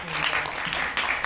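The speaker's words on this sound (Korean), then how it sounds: "박수 주셨습니다." Brief applause from the audience at a Korean film library talk event, steady clapping heard close and fairly loud with some background chatter mixed in.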